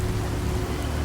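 Steady rain as a sound effect in an audio story, a dense even wash of pattering drops, loud and continuous throughout with no voices.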